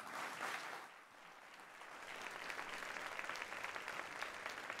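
Sustained applause from a sizable crowd at a city State of the City address, steady and dense throughout, with a brief dip early before building again.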